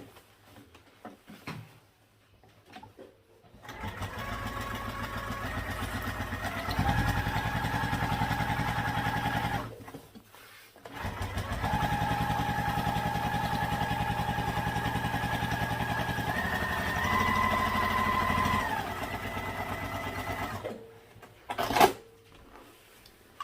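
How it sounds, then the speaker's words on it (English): A sewing machine top stitching a tote bag, its motor whirring in two long, steady runs of several seconds each, separated by a short pause, with quiet handling clatter before and after. "We just want to top stitch this one."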